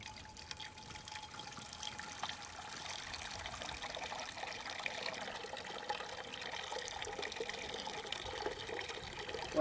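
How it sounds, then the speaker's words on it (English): Water pours steadily from a seven-gallon jug into cast-iron Dutch ovens stacked on a Firebox stove, overflowing to fill the lids below; a continuous close splashing trickle runs the whole time without letup. "I'll go ahead and let this overflow and it'll fill up the lids of these other Dutch ovens"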